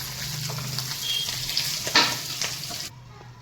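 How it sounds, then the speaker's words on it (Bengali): Boubata fish frying in hot oil, a steady close sizzle with broad crackling hiss and a few sharper spatters and stirring clicks, cutting off abruptly near the end. "এই বৌবাটা মাছ আমার ভাজা হয়ে গেছে"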